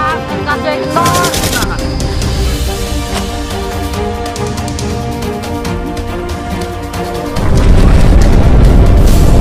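War-comedy battle noise of rapid gunfire bursts and booming explosions, a dense continuous barrage with a heavier blast near the end, layered over music-like tones.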